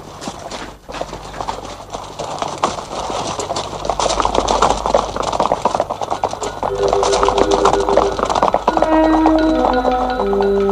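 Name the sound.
horses' hooves clip-clopping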